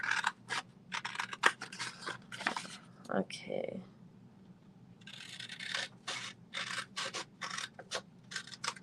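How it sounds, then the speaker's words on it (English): Regular scissors snip through fabric in quick bursts of close, crisp cuts, pausing briefly midway, with a voice speaking softly. "I'm just using a pair of regular scissors"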